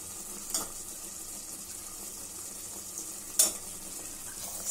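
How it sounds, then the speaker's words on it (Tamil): Soaked chickpeas sauté in a pan with a steady, faint sizzle, and two brief sharp scrapes of stirring cut in near the start and the middle. "இப்ப இந்த கொண்டக்கடலையை நம்ம இப்ப இதுல சேர்த்துக்கலாம்."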